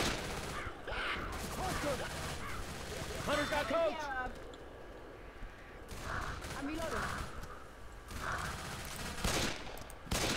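Video game gunfire comes in rapid bursts and rattling volleys, mixed with other busy in-game noise and mechanical clatter.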